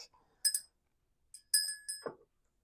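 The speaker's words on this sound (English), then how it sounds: "it's just my bell" A small bell, likely a doorbell or door chime, rings in a few bright, clear dings in a quiet room, with a short pause between strikes and a faint tail at the end.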